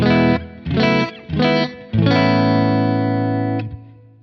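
Electric guitar played through a Kemper Profiler with no POG pedal: three short chord stabs, then a longer sustained chord ringing out with a slightly distorted tone before being muted, loud and close.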